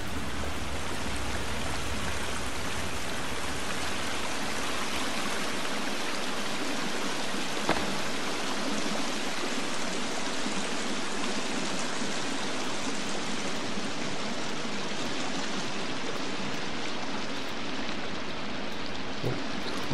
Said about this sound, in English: So that waterfall is really loud.